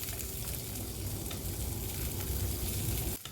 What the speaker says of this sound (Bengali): এইভাবে নাড়তে নাড়তে লঙ্কাগুলো কিন্তু অনেকটাই সফট হয়ে আসছে